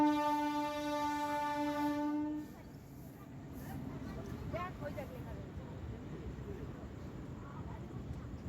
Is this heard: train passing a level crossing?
yes